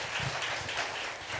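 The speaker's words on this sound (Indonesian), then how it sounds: "Yang setuju tepuk tangan yang keras buat Yesus." A church congregation applauding together, heard as a faint, distant, steady wash of clapping that continues throughout without any voices over it.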